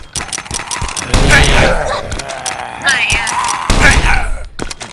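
Rapid gunfire rattles in Last Island of Survival as players shoot at a tank boss, with dense bursts of shots firing close and loud while a person talks over the shooting.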